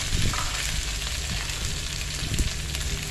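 Fresh and dried chili curry paste pounded with coriander is dry-roasted in a pan for a Thai bamboo-shoot curry. It gives a dense, steady sizzle and crackle, close and continuous, with no voices.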